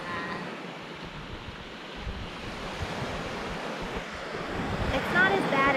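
Ocean waves wash steadily onto a coral-strewn beach with boulders at Fitzroy Island, Australia, forming a continuous broad surf roar mixed with wind buffeting the microphone.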